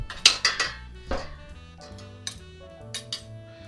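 Chopped herbs being stirred in a bowl, with a few sharp clinks and scrapes of a utensil against the bowl up front, then softer intermittent taps and knocks, close and fairly clear.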